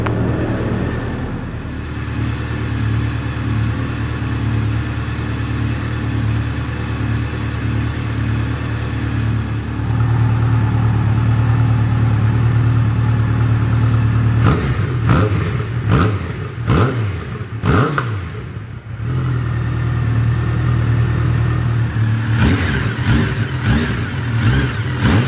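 Loud, close engine of a 2024 Honda CB1300 Super Four motorcycle idling with a deep rumble, then a series of sharp throttle blips and revs before settling back, with more quick revs at the end.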